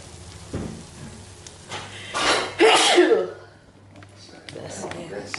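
A person sneezes sharply and loudly at close range, with a smaller lead-in breath and a wet burst. Softer noises and brief speech come before and after, in a car stuck at a toll in Jamaica.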